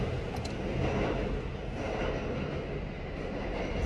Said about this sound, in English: Oh my God, the train again.